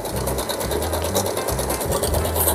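A sewing machine stitches thick, folded denim from old jeans with a double thread, running in loud, fast bursts broken by brief pauses as it labours through the hard fabric.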